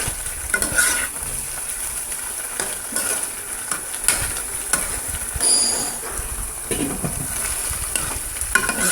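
Chicken strips, half-cooked, stir-frying in gochujang sauce after the oil is reduced, with steady close sizzling and repeated scraping stirs over a constant broadband hiss, no voices.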